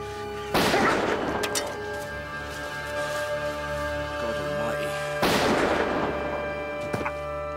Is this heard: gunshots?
yes